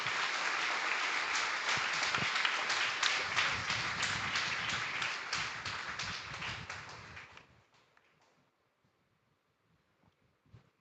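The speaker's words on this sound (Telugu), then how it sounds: "గట్టిగా చప్పట్లు కొడదాం." A church congregation at Sunday worship claps hard and continuously, a dense roomful of hands that holds strong for several seconds, then fades away into near silence with a few stray claps.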